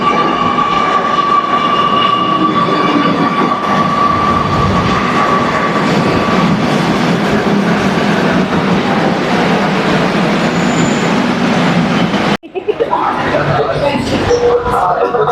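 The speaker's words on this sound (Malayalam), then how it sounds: "യെസ്, മെട്രോ വന്നു." A metro train pulling into a busy station, a loud continuous rumble and rail roar with a whining tone, ending abruptly as the scene shifts to muffled crowd noise.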